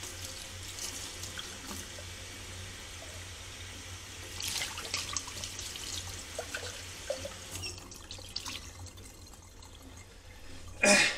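Water from a tap runs over an empty wine bottle as it is rinsed, a moderate splashing flow that varies as the bottle moves, with a louder clunk right at the end.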